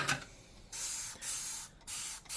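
A Dawn Ultra Platinum Powerwash dish soap spray bottle hisses in several quick bursts, short sharp sprays separated by brief pauses, close by and fairly quiet.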